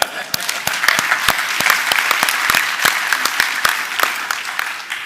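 Audience applause at a Centre for Human Rights graduation ceremony, a steady patter of many hands with sharp individual claps standing out, fairly close and continuous, no talking over it.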